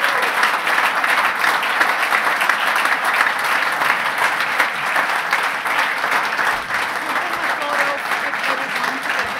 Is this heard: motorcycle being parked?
no